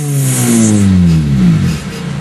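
A car engine revs up loudly and close, with pitch sweeping downward as it winds back, then settles into a rough idle, with no talk.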